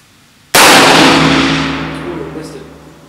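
Single loud rifle shot fired at a head-shot target 250 yards away on an outdoor range, an abrupt blast followed by a long, slowly fading rumble and echo.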